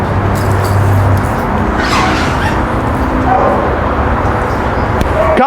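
Dogs barking during outdoor recall training at a dog ranch, with barks and yips scattered through steady background noise and a person's voice calling commands.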